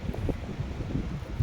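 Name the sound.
strong wind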